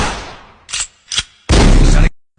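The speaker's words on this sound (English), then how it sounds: "Make that pistol pop." A pistol fires in a loud, close burst: a decaying blast, two short sharp pops, then a longer sustained crack before it cuts to silence.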